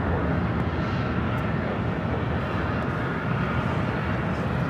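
A Southwest airliner takes off from runway 24 Left at LAX, its engines giving a continuous broad roar that holds steady and fairly distant throughout.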